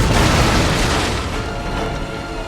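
A cannon shot fires during a naval battle in the video game Napoleon: Total War, a single heavy boom with a long rumbling decay that fills the mix.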